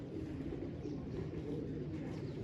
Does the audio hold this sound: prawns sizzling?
no